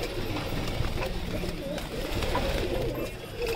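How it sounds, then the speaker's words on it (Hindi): Pigeons cooing and fluttering nearby in a steady, busy murmur, with a person talking quietly in the background. "तो ये कबूतर बहुत शोर मचाते हैं।"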